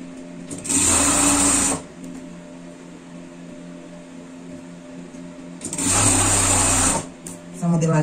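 An overlock sewing machine stitches the neckline of a pet garment in two loud, steady whirring bursts of about a second each. Between the bursts a person talks over a low background hum.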